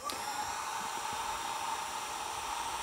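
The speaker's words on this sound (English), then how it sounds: "we'll take a heat gun" Steady, even airflow hiss from a heat gun running on low heat, held close while preparing 3D printed frame walls, constant and unbroken throughout with no talking.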